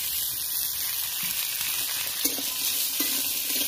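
Pitha frying in a little oil in a pan produces a steady, bright sizzle throughout, close and even, with a few faint soft knocks and no talking.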